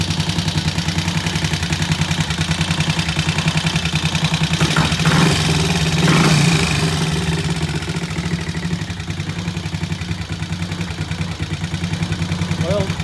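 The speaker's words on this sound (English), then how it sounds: "It's not a thump idle, but it's idling pretty good." Nearby motorcycle engine with a new carburetor idling with a steady, slightly uneven chug, briefly revving a little louder in the middle before settling back.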